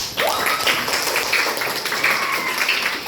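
Students in a classroom clap their hands together, a dense burst of applause that runs steadily and fairly loud for a few seconds with no talk over it.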